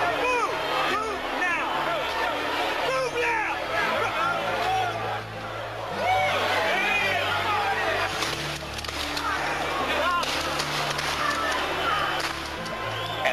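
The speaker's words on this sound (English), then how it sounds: "That's the sound of police firing shotguns with rubber bullets and bean bags into the crowd at Washington" Police shotguns fire rubber bullets and bean bags into a crowd at Washington Park in Over-the-Rhine, sharp cracks scattered over a loud, continuous hubbub of shouting, chattering protesters.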